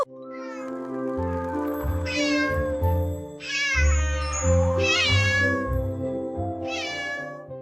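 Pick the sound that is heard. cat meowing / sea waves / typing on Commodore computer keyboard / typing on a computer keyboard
cat meowing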